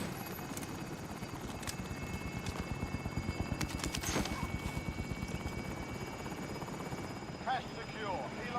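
Video game helicopter, a steady rapid rotor chop throughout, fairly close and loud, with a few brief sharp effects and a rising whine near the end; no talk.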